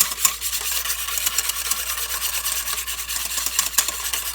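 A spoon scrapes and stirs through butter chicken as food colouring is mixed in, a continuous close rubbing, swishing texture with periodic sharper scrapes and no voices.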